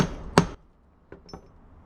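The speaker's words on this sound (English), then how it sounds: "get your puncher and give them a few little whacks" A hammer strikes a grommet punch setting tool: one sharp, loud, close whack, then a pause and two softer, quicker taps, with no talking.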